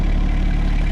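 A tractor engine rumbles steadily and loudly close by while clearing snow on a driveway in Wisconsin, a continuous low droning idle with no breaks or talk.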